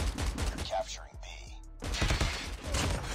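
Minigun fire in the mobile shooter Call of Duty Mobile, a dense burst of rapid shots up close, a brief lull in the middle, then a long sustained roar of heavy fire.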